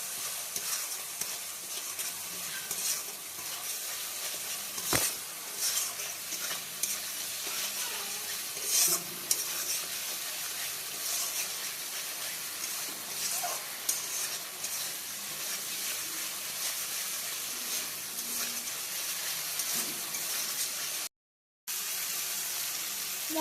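Spice mixture with salt being stirred in a pan for a Bengali pomfret dish with mustard and poppy seed, a steady close sizzle with scraping spoon strokes running throughout, briefly cutting out near the end.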